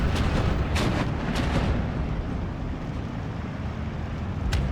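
Bombs from a Do 17 bomber exploding in the WWII strategy game Steel Division, a dense rumbling roar with a few sharp blasts breaking through, loud and continuous.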